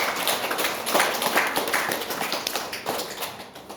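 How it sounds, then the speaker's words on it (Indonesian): Brisk, uneven clapping from a small gathering at a PAUD early-childhood school event in Fariwari, Fakfak, West Papua, applauding the children, close and lively with individual claps distinguishable. "Tepuk tangan untuk anak-anak ini."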